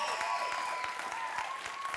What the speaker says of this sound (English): so that's what applause sounds like